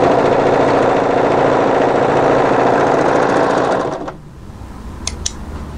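Overlocker running steadily as it serges the side seam of a turtleneck tunic, a loud continuous motor whir for about four seconds, then stopping abruptly and leaving quiet room sound with a couple of faint clicks.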